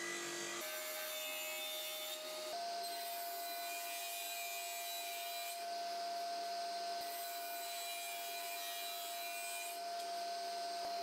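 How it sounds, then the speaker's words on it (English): Birch plywood pieces being cut with a power saw in a workshop, a steady loud whine with a sustained tone that shifts pitch partway through, running continuously close by with no talk. "Now I'll cut the three pieces of plyboard I need. I'll be using birch plywood."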